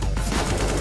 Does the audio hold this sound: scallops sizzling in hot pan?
no